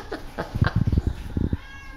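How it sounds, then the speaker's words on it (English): Little kittens meow close by in a quick cluster of short, high cries, a few more squeaky calls following in the brief moment. "I gotta take video of these little cute kittens."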